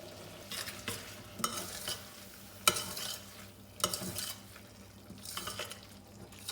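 Tagliatelle tossed with pesto in a pan, stirred in repeated scraping sweeps against the pan bottom over a soft sizzle, each pass a brief rasp recurring roughly every second.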